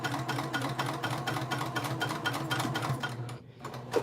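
A sewing machine stitches a seam on a basic tote bag, a steady fast mechanical whir with rapid ticking that runs continuously and then stops briefly near the end.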